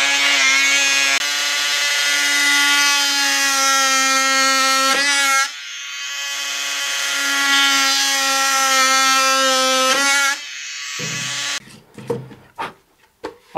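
Oscillating multi-tool boring a small drainage hole in the bottom of a handmade wooden flower pot, a steady buzzing whine held in two long runs with a brief break between, then a few loose clatters as it stops.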